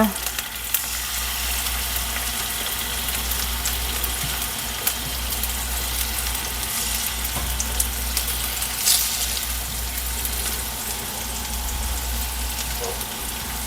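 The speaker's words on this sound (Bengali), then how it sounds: "এখন গরম তেলে মাছগুলো দিয়ে দিই" Spice-coated hilsa fish fry in hot oil with a dense, steady crackling sizzle that fills the whole stretch, loud and close, broken by an occasional faint clink.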